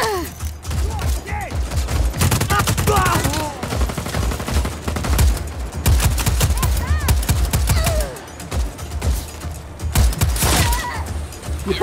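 Rapid bursts of gunfire from the video game Just Cause 4, loud and dense with booming shots and continuous automatic fire, layered over game music and effects throughout.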